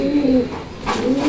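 A single fancy pigeon coos in a soft, rolling, continuous call, close and fairly loud throughout with no voices.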